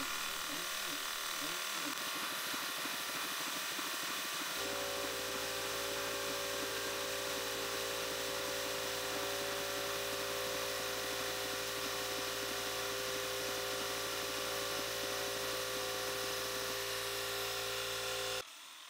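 A 3/8-inch four-flute carbide roughing end mill cuts a 200-thou-deep pocket on a DIY CNC 4th-axis setup, starting with quieter spindle noise, then settling into a loud, steady high-pitched machining whine with a constant tone that holds for over ten seconds.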